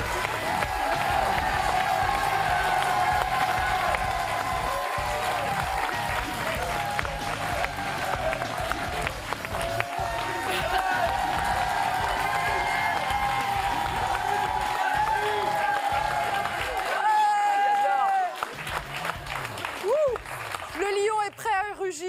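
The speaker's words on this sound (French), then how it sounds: "Faites un tonnerre d'applaudissements pour Steve Kuningas, mesdames et messieurs." Studio audience of a television talk show breaks into sustained applause with cheers and whoops, loud and continuous for most of the stretch, fading near the end as a voice takes over.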